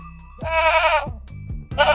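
A male goat bleats in a rural setting: loud, close, wavering calls, one long cry followed by a shorter one and the start of a third, with no talk over them.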